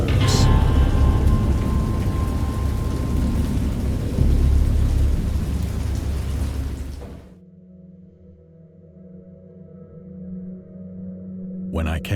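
A rain and thunderstorm sound effect plays loudly: heavy, rushing rain with deep rumbling thunder underneath. It cuts off abruptly partway through, leaving only a low, quiet hum.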